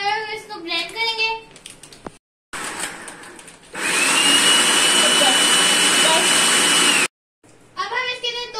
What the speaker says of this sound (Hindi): और इसको ब्लेंड करेंगे।